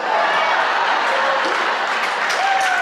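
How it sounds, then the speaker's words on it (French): A comedy show audience gives a steady round of applause, with a continuous wash of clapping and a faint whistle-like tone near the end. "Oui, tu peux applaudir, ça coûte rien"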